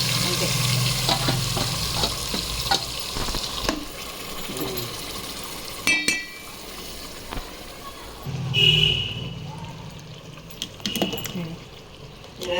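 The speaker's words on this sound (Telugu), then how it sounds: "ఓన్లీ నూనె వేసుకొని నూనెలో చికెన్ వేసేసాము" Chicken frying in oil for a simple chicken dum biryani, a steady sizzle with occasional stirring scrapes, water splashes and faint voices, close and moderately loud.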